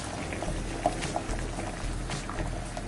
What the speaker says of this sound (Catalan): i la posem a bullir